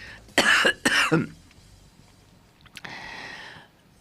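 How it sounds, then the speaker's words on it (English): Two loud, harsh coughs close up, followed by a pause and a softer rasping throat sound. "It's slightly different coughs."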